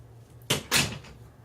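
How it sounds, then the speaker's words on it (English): A door in a quiet room is pulled shut, with two quick wooden knocks close together, a softer latch thump followed by a louder closing bang, then stillness. "Close the door."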